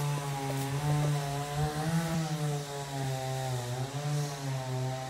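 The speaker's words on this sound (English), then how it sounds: "it's like he's trying to grind his stump down" A stump grinder grinds down a tree stump in a Florida backyard. Its engine drones steadily from a moderate distance, rough and buzzing, and swells slightly as it cuts. No one talks.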